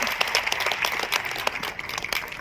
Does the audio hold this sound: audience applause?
yes